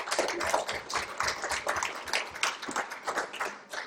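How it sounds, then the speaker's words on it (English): Applause at a women's conference, a crowd clapping steadily in a dense, lively patter that swells and dips slightly over several seconds, close and fairly loud with no talking. "Let's give them all one last hand of applause."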